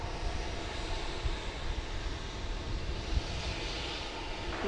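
A Cathay Cargo freighter taxis at DFW Airport at night, its engines giving a steady, moderately distant roar with a low rumble underneath and no voices.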